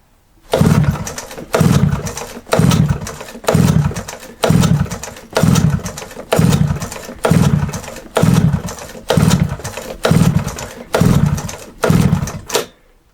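An LT50 quad's engine, badly in need of a tune-up and primed with extra petrol, is cranked over and over in a loud, close run of about a dozen evenly spaced bursts without settling into a steady idle.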